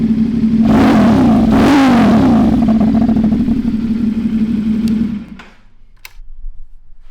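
A CFMOTO 450SS motorcycle with a budget slip-on exhaust revs loudly at close range, rising and falling through two sharp blips over a steady idle before the engine cuts off and the sound drops away.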